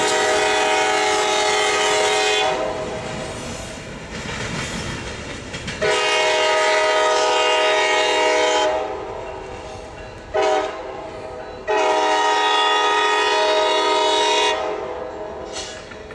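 A train horn blares in long, loud blasts with brief pauses as a one-car eastbound train rumbles past close by in Perryville, Maryland, steady rail noise underneath.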